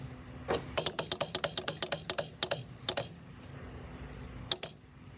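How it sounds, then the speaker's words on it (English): Ignition points on a 1952 MG TD click with an SU fuel pump ticking, a rapid run of sharp close clicks that slows and spaces out as pressure builds, with two more isolated clicks near the end in a quiet workshop. "Your points will click and the fuel pump will pump up until the pressure needed for the carburetors has been met."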